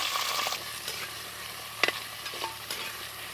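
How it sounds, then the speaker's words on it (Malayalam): Whole tomatoes and about two dozen small shallots sauté in a pan for a Kerala mackerel curry, crackling steadily as a spoon scrapes and stirs them, with a sharper clack or two partway through. "ഒരു പത്ത് ഇരുപത്തഞ്ചോളം ചെറിയ ഉള്ളി ഇട്ട് കൊടുക്കാം രണ്ടും പാടെ നമുക്കൊന്ന് വാട്ടിയെടുക്കാം"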